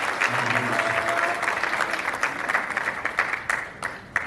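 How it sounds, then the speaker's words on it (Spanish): A church congregation applauding during a Spanish-language service: steady, dense clapping from many hands that fills the room throughout, with a brief murmur of voices near the start. "You can give a hand clap to the Lord."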